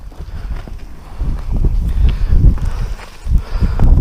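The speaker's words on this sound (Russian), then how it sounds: "Сильнейший ветер не дает возможности проверять." Very strong wind buffets the microphone outdoors during a difficult check, with low, rumbling gusts that swell and surge continuously and close, drowning out other sound.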